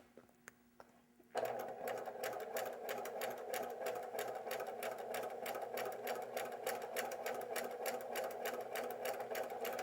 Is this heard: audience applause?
no